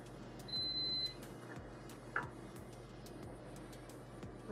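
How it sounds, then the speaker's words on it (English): A short, steady high electronic beep sounds once in a home kitchen while bacon is being cooked, clear over a constant low hum and scattered faint ticks. "what is beeping at me?"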